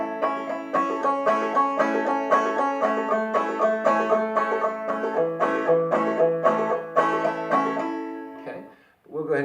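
Banjo basic lick played fast across all four strings, a bright steady stream of quick plucked notes in rolling patterns with shifting chords, close and alone for about nine seconds before a brief pause.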